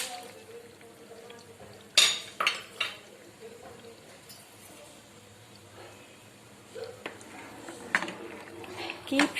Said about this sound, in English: Now we have to add the pasta to the boiling water.